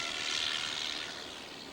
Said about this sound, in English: That's the French Lorraine engine.